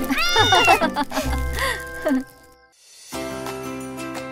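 An animated cartoon cat meows several times in quick succession, close and fairly loud, with a rising and falling pitch, then a short pause before steady background noise resumes.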